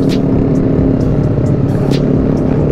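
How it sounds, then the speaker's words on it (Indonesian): A Yamaha Aerox scooter's exhaust drones steadily and loudly throughout, a close, continuous rumbling engine note with a few faint higher flickers above it. "Suara knalpotnya sih enak."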